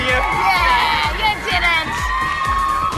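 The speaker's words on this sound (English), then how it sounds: "Get used to thousands of screaming girls." Thousands of girls in a talent-show audition crowd scream and cheer loudly and continuously, with piercing shrieks and whoops washing over one another from near and far.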